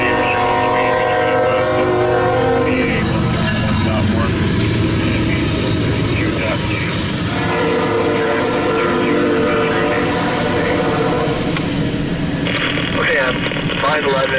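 CSX E750 empty coal train passing: a loud, continuous rumble and rattle of rail cars with tonal engine drone, sustained throughout and close by.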